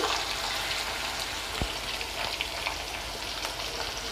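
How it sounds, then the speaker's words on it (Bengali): Prawns frying in hot oil in a pan, a dense continuous sizzle and crackle with a brief thump partway through, close and steady with no talk. "এটা গরম হয়ে গেছে, মাছগুলোকে ভেজে নিচ্ছি।"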